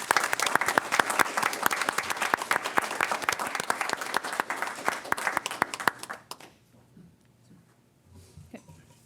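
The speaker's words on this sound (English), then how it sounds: "Let's give them a rightful round of applause." A room full of people applauds at a fire commission award presentation, dense clapping filling the space for about six seconds before it drops off to quiet murmurs and rustling.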